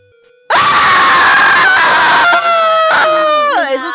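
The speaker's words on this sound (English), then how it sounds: "Sounded like a horror movie. A primal scream." A woman lets out a long, piercing scream at close range, shrill and sustained, breaking and wavering toward the end.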